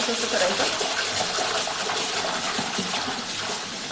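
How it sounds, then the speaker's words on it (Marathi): Fresh mushrooms rinsed fast in a pot under a strong running kitchen tap, a steady close rush of splashing water with quick handling, no talk over it. "आता एकदम स्पीडनी पाणी घ्यायचं नळाचं"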